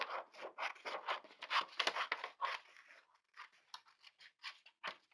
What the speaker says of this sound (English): Cut this out.